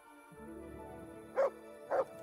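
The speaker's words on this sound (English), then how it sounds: "Okay, we have dogs here." Dogs barking in the video game Kingdom Come: Deliverance, two short distinct barks about half a second apart over a quiet ambient game background with a steady low hum.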